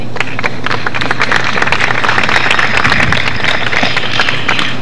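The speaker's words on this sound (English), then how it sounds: "We now depart and applaud these exceptional graduates as they close one chapter on their lives" Dense, steady applause from a large audience cheering graduates at Albany Law School's 149th commencement in 2000, a continuous roar of clapping hands filling the hall without pause.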